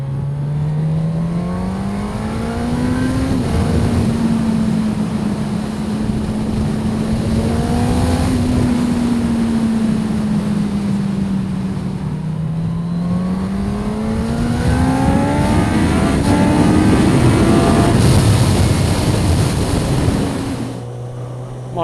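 A 2016 Suzuki GSX-S1000F motorcycle engine pulls hard on an open road, its tone climbing and dipping through several long accelerations and gear changes, loud and steady with wind rush throughout.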